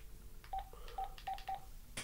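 A telephone keypad beeps in four short, evenly spaced dialing tones, faint against a low background hiss.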